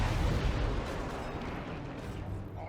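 Tyranid spore mines detonate in the real-time strategy game Warhammer 40,000: Dawn of War II – Retribution, a dense, continuous rumble of blasts and crackling battle noise, fairly faint and without clear separate bangs.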